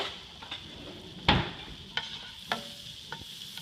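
Shallot and garlic sautéing in butter in a hot pan: a low steady sizzle marked by a few sharp spoon clicks and stirring scrapes, close by, with no one speaking.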